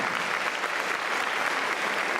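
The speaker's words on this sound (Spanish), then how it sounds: "Un aplauso a la misericordia de Dios." A church congregation bursts into warm applause, a dense and even patter of many hands that carries steadily at moderate volume from start to finish.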